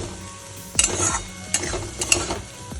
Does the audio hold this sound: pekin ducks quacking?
no